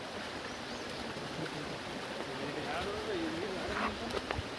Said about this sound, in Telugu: ఈ పక్కనే మీరు జలపాతం యొక్క సౌండ్ వినొచ్చు